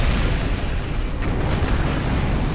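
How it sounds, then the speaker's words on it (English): A particle cannon fires in the real-time strategy game Command & Conquer Generals, a sustained, dense roaring blast of broadband rumble and crackle that stays loud and continuous without a pause. "Warning, particle cannon activated."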